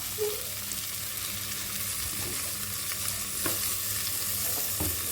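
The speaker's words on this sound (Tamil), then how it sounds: "இப்போ வந்து தக்காளி போட்டுக்கலாம்" Tomatoes fry in a pan for vegetable biryani, giving a continuous, close hiss of sizzling with occasional scrapes from stirring.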